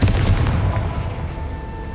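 In Hogwarts Legacy, a Confringo explosion spell goes off as a loud, booming blast right at the start, then a rumbling, crackling tail fades over about two seconds. No voices are heard.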